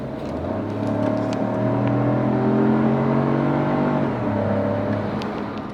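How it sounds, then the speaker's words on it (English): Peugeot 2008 SUV engine revving under acceleration, a low grunting roar heard from inside that rises in pitch, dips briefly around a gear change, then continues steadily at moderate volume. "that low grunt roar when you have this Peugeot 2008. So if I step on the gas"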